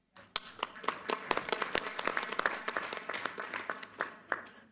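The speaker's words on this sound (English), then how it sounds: "I think we deserve a round of applause." Audience applause at a BRICS Employment Working Group meeting: dense, steady clapping from many hands in a room, sustained for several seconds with a few sharper claps standing out.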